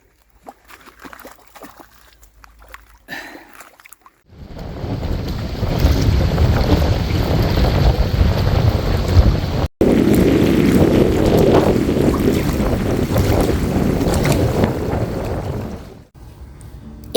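Strong wind at a mountain lake campsite, blasting across the microphone as loud, steady buffeting after a quieter start, with one brief dropout and a sudden cut near the end.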